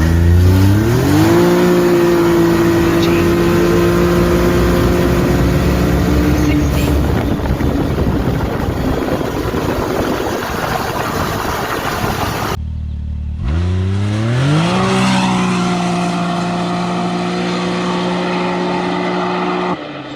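Powersports vehicle with a cat delete and its exhaust closed, revving hard at full throttle in two long pulls with rising engine pitch, a brief cut between runs, loud and close.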